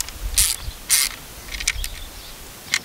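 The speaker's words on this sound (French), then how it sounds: "On resserre. Alors, c'est du 10. Une vis de 10." A ratchet tightening a 10 mm screw on the plastic third brake light of a Peugeot 206 CC, giving a few sharp close clicks and short ratcheting bursts, spaced irregularly.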